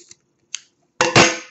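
Scissors snipping crochet yarn during a potholder tutorial: two faint light clicks, then a pair of sharp, close cuts near the end, with no talking.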